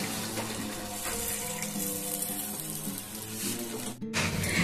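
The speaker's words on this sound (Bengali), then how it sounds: "দিয়ে দিলাম একটুখানি জল।" Water poured into a cooking pan while making a Bengali fish curry, a steady splashing trickle for a few seconds with a brief pause and the sizzle of the pan underneath, no talk.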